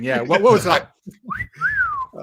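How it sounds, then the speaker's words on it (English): After someone talks, a rising then falling two-note whistle sounds, like a wolf whistle, close and clear. "someone's wolf whistling me"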